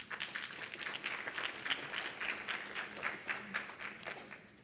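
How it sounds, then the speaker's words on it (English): An audience at a school district presentation applauds, a fairly faint, sustained patter of many hands clapping at a distance. "And yeah, you can applaud for that."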